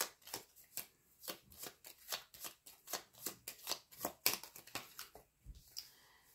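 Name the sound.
cards being gathered and shuffled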